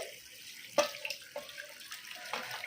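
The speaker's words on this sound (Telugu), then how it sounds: "నేను ఒకసారి కడుక్కుంటున్నాను ఎక్కువ వాటర్ పోసి" Freshly picked amaranth leaves washed in water, quiet close splashing and trickling with a few sharper splashes as they are handled, heard alone.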